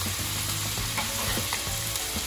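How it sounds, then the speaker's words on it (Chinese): Minced meat stir-frying with chili in a hot wok, a dense steady sizzle with quick scraping tosses, close and loud. "再继续炒这个肉碎。"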